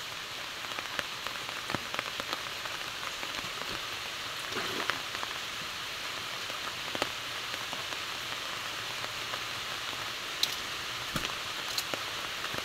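Steady rain hisses on a surface, with scattered drips and taps popping out now and then; no one speaks.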